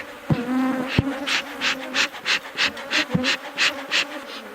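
Honeybees buzz close around a camera during a beehive inspection, their buzzing rising and falling in rapid pulses as individual bees swoop past, with a few sharp knocks at the start.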